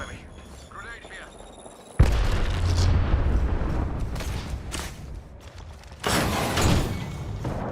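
A grenade in Apex Legends goes off with a sudden loud boom that settles into a sustained roar, followed by a second heavy burst a few seconds later amid gunfire and game noise.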